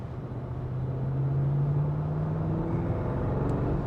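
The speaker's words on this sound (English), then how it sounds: "Let's try moving pull," A 2026 Audi SQ7 engine pulls at half throttle from inside the cabin, a steady low drone that rises gradually in pitch and swells slightly louder over a few seconds, with no talking.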